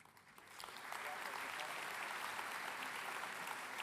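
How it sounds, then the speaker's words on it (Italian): Audience applauding at an award ceremony in a theatre, steady dense clapping that swells in after a brief quieter start and holds loud and even throughout. "Un applauso meritato e una foto per ricordare il momento."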